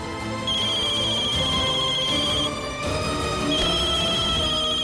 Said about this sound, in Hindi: देखो, शेल्वी का फोन आ रहा है